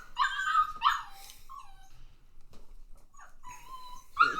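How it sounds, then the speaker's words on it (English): A puppy yips and barks in short, high-pitched bursts, fairly near, with a quieter whimpering stretch in between and a final sharp bark. "Might pause until the puppy goes away."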